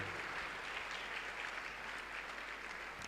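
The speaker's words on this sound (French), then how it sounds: "Clap to the Lord as they come." A congregation at an evangelistic crusade in Douala claps steadily, a dense wash of applause heard at a distance and fairly soft, with no voices standing out.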